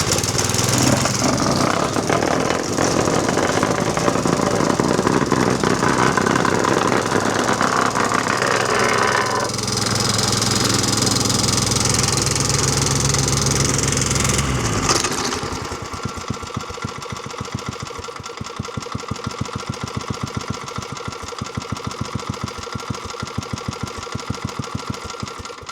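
A petrol engine on a whacker plate runs loud and rough for about fifteen seconds, then drops to an uneven, stuttering idle with irregular pulses, failing to tick over properly.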